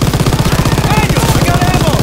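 Light machine gun fire in Call of Duty WW2: rapid, even, continuous bursts, loud and close, with a steady rhythmic chatter throughout.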